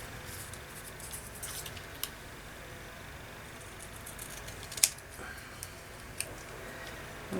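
Paper is cut down for a mixed-media journal page with scissors, giving a few quiet, sparse snips and clicks spread over a soft steady background, one sharper snip standing out midway.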